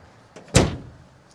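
The door of a 1950 Studebaker R-Series truck shuts with one solid thud after a faint click of the latch, heard close up over a quiet background.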